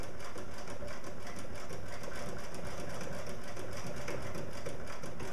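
A sewing machine runs steadily in zigzag mode, stitching back over a seam on a side-release buckle strap, a continuous close rapid mechanical chatter with a fast even rhythm throughout and no talking.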